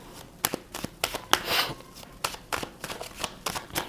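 Tarot cards being shuffled by hand during a Virgo career reading, giving a run of crisp, rapid riffling and slapping bursts at a fairly steady rhythm, close and clear, with no talking.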